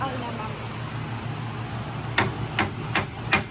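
Four sharp metallic hammer strikes on a rusty brake caliper of a 1989 Chevy S10 ring out in a steady rhythm over a low background hum, close by and loud.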